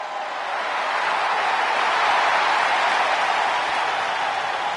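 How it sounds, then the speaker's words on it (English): A big arena crowd at a WWE wrestling event roars in a sustained ovation for Bianca Belair, a dense, steady wash of cheering and clapping that swells slightly mid-way and never breaks. "Listen to this ovation. The WWE Universe loves cheering on the EST."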